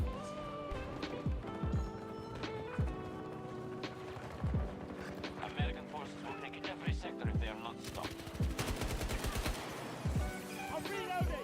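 Rapid bursts of AM40 automatic gunfire in the shooter Battlefield 2042, a fast rattling rate of fire repeating in quick volleys over a layered game soundtrack and effects.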